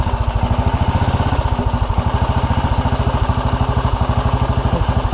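A 1929 Black Ariel motorcycle engine runs close by at a steady, rapid thumping idle with rhythmic mechanical clatter, alone with no talking.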